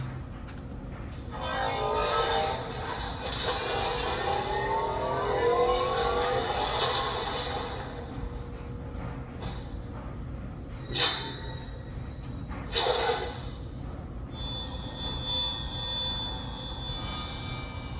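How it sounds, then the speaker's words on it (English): Electronic sound effects from a toy Marvel Infinity Gauntlet with the yellow Mind Stone: a loud rushing whoosh with sweeping tones, then a sharp burst and a steady high electronic hum, played through a small speaker. "I think the sound effects are pretty much the same"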